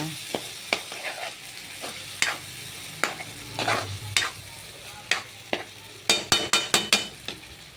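Ingredients being sautéed in a pan for a tilapia dish, a continuous sizzle punctuated by repeated sharp metal spatula scrapes and clinks, speeding into a quick burst of strokes near the end, close and without speech.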